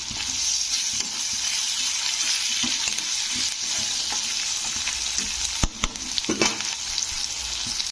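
Tomatoes cook down in a pan with salt, giving a steady, close sizzle broken by a few sharp clinks and scrapes of stirring near the end.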